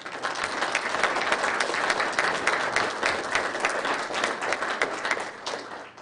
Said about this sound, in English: give these folks all a round of applause for being here tonight